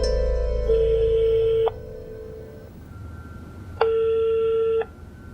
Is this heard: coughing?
no